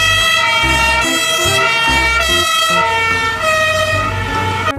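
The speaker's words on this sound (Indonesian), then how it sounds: "Ada mobil pemadam kebakaran." A toy fire truck siren blares loudly and continuously, its electronic wail stepping between tones over a buzzing low pulse.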